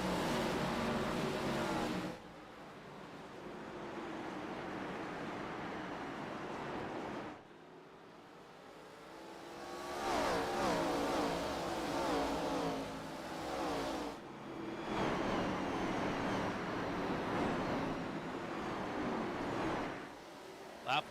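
Sim race cars in a video game tear around Martinsville in a roaring pack, engines rising and falling through separate bursts over a steady rush, with a commentator talking over them.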